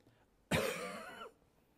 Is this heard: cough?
yes